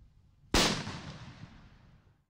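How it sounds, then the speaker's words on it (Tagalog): An illegal King Kong firecracker, slightly bigger than a 5-star, goes off in a police simulation on a mannequin: one sudden loud bang whose blast rumbles and fades over nearly two seconds. "Unang isinalang ang paputok na King Kong na mas malaki lang ng konti sa 5-star."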